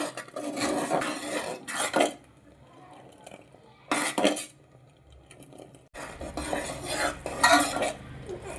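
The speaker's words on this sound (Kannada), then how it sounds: "ಇದು ಕೈ ಬಿಡ್ದಂಗೆ ಹಿಂಗೆ ತಿರುವಾಡ್ತಾ ಇರಿ. ನೀವು ನೋಡ್ಬೋದು ಚೆನ್ನಾಗಿ ಕುದೀತಾ ಇದೆ" A utensil stirs boiling jaggery syrup in a pot, scraping and rubbing in several close bursts with quieter pauses between them.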